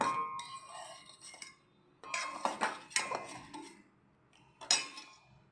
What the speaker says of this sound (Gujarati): ત્રીસ સેકન્ડ મિક્સ કરશું ને એટલે ખાંડ ઓગળી જશે